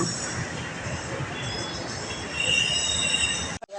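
A metro train passes among city buildings, its wheels squealing in a steady, high metallic whine over a continuous rumble of rolling carriages, ending in a brief dropout.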